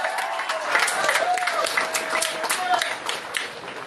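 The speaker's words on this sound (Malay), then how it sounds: "Berikan tepukan yang gemuruh kepada beliau." Crowd at an UMNO community gathering clapping for the party president, a steady wash of many hands at moderate volume with a faint tonal whistle or feedback line running through it.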